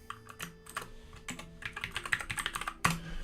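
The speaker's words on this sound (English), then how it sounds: "The keyboard? Oh, it's just a keytron." A Keytronic computer keyboard, said to need heavy cleaning, is typed on in quick bursts of close, clacking keystrokes, with an irregular rhythm that ends in a louder final strike.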